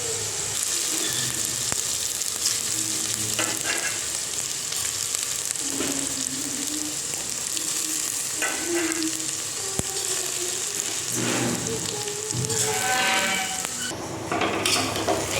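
Rice frying in ghee with cashews in a pan for Bengali basanti polao: a steady, close sizzle with scraping and stirring clinks throughout, no voices.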